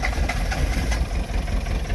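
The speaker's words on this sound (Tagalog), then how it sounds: "Ayun, namandar. Kaya lang palyado." A Kia KC2700 engine runs with a misfire after being started by popping the clutch, its loud close idle chugging unevenly with irregular stumbling beats.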